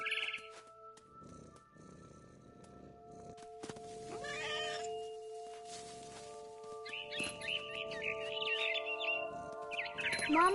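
A cat meows in the video game What Remains of Edith Finch, with several short cries amid chirping bird calls over a steady tonal game soundtrack, no talking.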